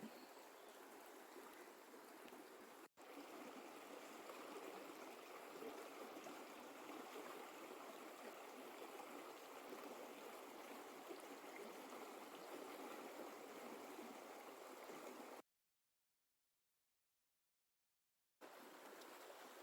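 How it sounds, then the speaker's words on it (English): A mountain stream flows past a campsite on the Colorado Trail with a steady, full rushing and gurgling wash that continues unbroken apart from a brief cut to silence near the end. "I'm going to sleep really good tonight listening to the water."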